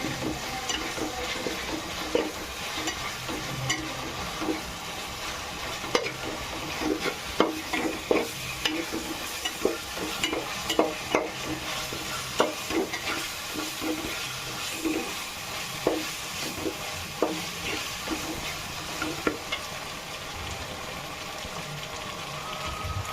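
Ginger garlic paste fries with browned onions in a pan for prawn and egg biryani, giving a steady sizzle broken by repeated scraping stirs throughout.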